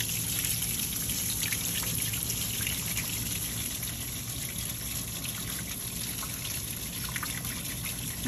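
Bees being washed in liquid to dislodge varroa mites make a steady, close trickling and sloshing that carries on without pause and with no talking.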